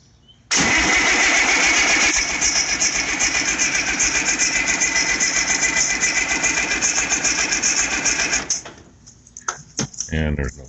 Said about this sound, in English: She's got the fuel on and she's going to turn her over.